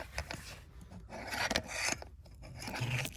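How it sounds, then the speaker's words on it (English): Metal pliers working a part loose during a rear spring swap on a VW Jetta MK5 in a parking lot, giving close, irregular scraping and rasping strokes with small clicks, no talking. "I'll use these pliers to undo this"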